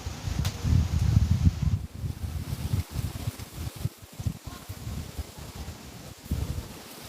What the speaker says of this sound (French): si vous entendez le bruit des feuilles et du vent